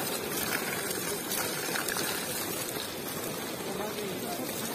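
Water gushing from a mountainside spring beside a road in the hills of Azad Kashmir, a steady, broad rushing roar close by that continues without a break, with a voice speaking faintly underneath.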